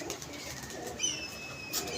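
Pigeons at a pigeon club coo softly in the distance, faint brief calls over a quiet, airy background.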